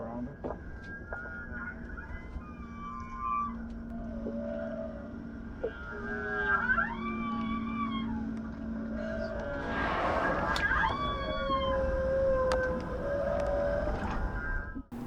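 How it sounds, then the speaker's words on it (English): Humpback whale song picked up on an underwater microphone in open water, with long rising and falling tonal moans and squeals over a steady hum of engine-like drone and hydrophone noise, fairly faint and continuous. "stopping to listen to whale song with an underwater microphone"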